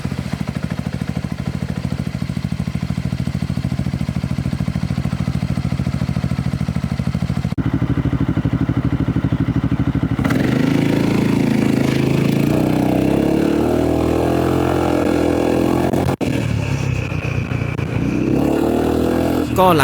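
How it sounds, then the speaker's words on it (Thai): A Honda Forza 350 scooter idling through an exhaust fitted with a silencer insert, a deep, throaty rumble rising in a few revs before settling back, close and loud. "มาอันนี้เป็นเสียงท่อ จากการแก้ไขปัญหาเรื่องของเสียงแล้วนะฮะ"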